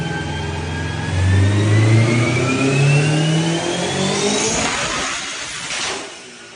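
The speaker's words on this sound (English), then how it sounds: "I'll throw in a clip of Mo's car on the dyno right here for you guys" A turbocharged Honda S2000 engine revs hard on a dyno, its pitch sweeping steadily upward through a long pull before dropping off sharply near the end, loud and close with no voices.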